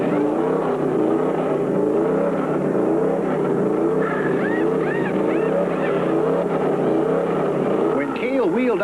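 A 1974 NASCAR stock car engine roars loudly and continuously as the car leaves a pit stop at a race, with rising and falling revving tones as it accelerates away, followed by a second higher pitched whine near the end.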